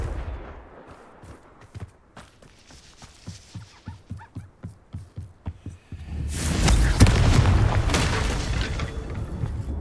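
Blasts of Confringo, a fire spell in Hogwarts Legacy, fired in a quick run of about a dozen sharp pops, followed by a loud, sustained roaring burst of fiery combat noise, with no talking.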